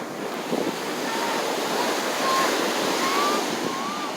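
Ocean surf rolls onto the beach at Carlsbad, California, a steady wash of breaking waves with some wind rumble, fairly close and continuous with no talking.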